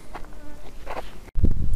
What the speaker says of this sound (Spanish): se oyen bastante zumbidos, no sé si serán moscas, serán avispas, abejas